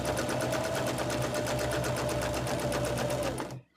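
A sewing machine runs back stitching on a patchwork pillowcase with batting, giving a steady, close, rapid mechanical whir with a thin tone through it before it stops abruptly.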